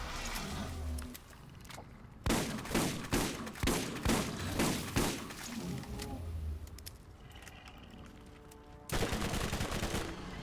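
Rapid bursts of gunfire from a first-person shooter in the Borderlands series, fired at lava crabs and spider ants: loud, repeated cracks in quick succession, a pause filled with game ambience, then another dense burst at the end.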